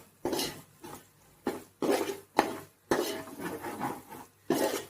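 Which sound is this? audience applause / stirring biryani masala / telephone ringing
stirring biryani masala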